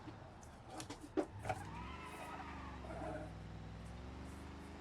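Car drifting through a turn in BeamNG.drive, with tire squeal and a rising engine note after a few knocks and bumps, heard close and at moderate level.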